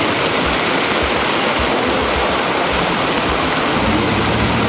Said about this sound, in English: Majedar barish.